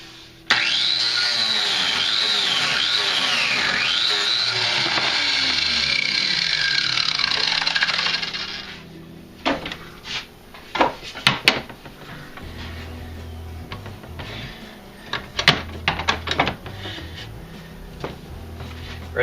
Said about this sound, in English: We use a special saw blade on this because it's fiberglass.